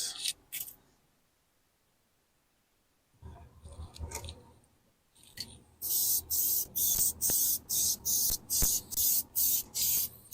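Adhesive spray hisses from an aerosol can in an airbrush workshop, a few short bursts at first, then about nine rapid rhythmic sprays in a row, loud and close.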